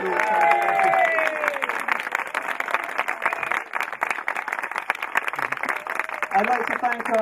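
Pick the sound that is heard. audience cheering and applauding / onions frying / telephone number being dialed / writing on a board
audience cheering and applauding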